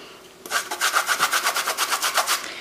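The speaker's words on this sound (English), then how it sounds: "I decided to switch graters and use my smaller handheld grater because it's easier" Fresh ginger root is rubbed over a small handheld grater in about a dozen quick, even rasping strokes, close and clear, with no talking.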